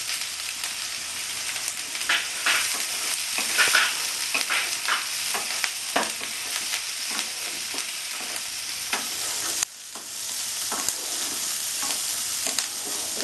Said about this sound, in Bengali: পাঁচ ফোড়নটা ফুটে গেছে এবার আমি পেঁয়াজগুলোকে দিয়ে দেবো লঙ্কাটাও দিয়ে দেবো